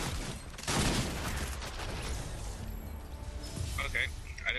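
Gunfire from a dragon's breath shotgun in Fortnite, a burst of loud cracking blasts early on that gives way to scattered, fainter game effects under occasional talk.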